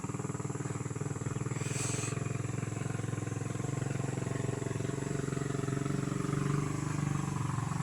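Motorcycles pass along a road beside a piggery being built: a faint, steady low engine drone heard at a distance, with no clear talk.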